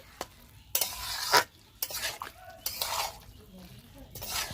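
Fried boondi stirred through hot sugar syrup in a pan, a close series of scraping, clinking stirs and soft wet sizzles with pauses between strokes.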